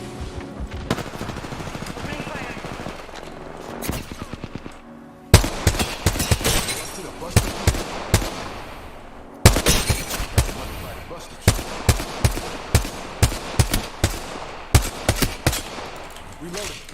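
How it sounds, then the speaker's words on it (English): Rapid bursts of automatic gunfire from the video game Apex Legends, loud and close, firing in dense clusters separated by short pauses across the whole stretch. "Opening fire."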